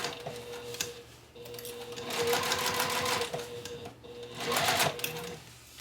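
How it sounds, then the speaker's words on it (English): A sewing machine stitching around the circular perimeter of a bag, with back stitching at start and stop, heard as rapid mechanical whirring bursts with brief pauses between runs, close and clear. "just sew in that circle, making sure I back stitch when I start and stop"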